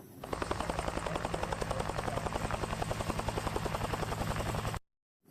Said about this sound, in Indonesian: rupanya ini helikopter teman-teman